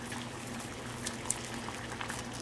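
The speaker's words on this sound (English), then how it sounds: "Now that you have your water boiling" Pot of water at a rolling boil with seitan pieces, giving a faint, continuous bubbling and gurgling with small pops throughout.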